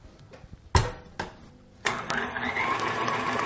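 An electric stand mixer starts up on medium speed after some sharp knocks and clatter, then settles into a steady motor whir that carries on to the end.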